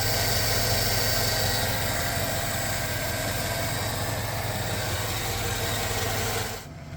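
A truck engine rumbles steadily and loudly close by as it pulls up, then drops away abruptly at the end.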